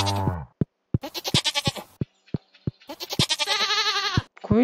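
A goat bleats several times in close, wavering cries, some drawn out and some in quick bursts, with sharp knocking clicks between them.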